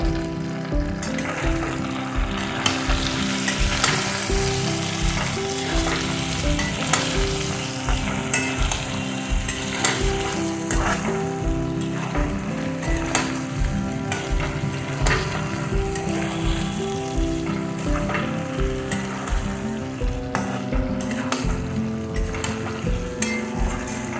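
Potatoes with a spoonful of poppy seed paste fry in a pan for a new-winter-potato aloo dum. A continuous sizzle runs under rhythmic background music with a steady beat throughout.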